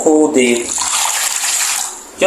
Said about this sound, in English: So I'm pouring the hot water.